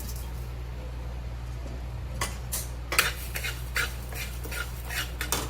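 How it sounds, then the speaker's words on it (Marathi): Whole coriander seeds tumbled and stirred in a pan, giving a run of sharp scraping and rattling clicks from about two seconds on, fairly close over a steady low hum. "आता आपण त्यामध्ये जे धणे घेतले होते अख्खे धणे ते आपण घालून घेऊया"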